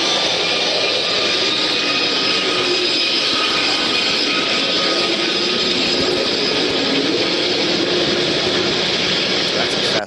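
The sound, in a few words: fast boat passing underwater hydrophone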